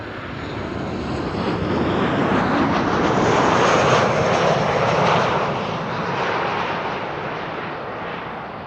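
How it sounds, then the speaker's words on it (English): A KLM Boeing 737-800 airliner arriving at Amsterdam Schiphol roars loud and steady with broadband jet engine noise, swelling toward the middle and easing slightly as it passes. "KLM 737-800, arriving from Marseille, is next, flight"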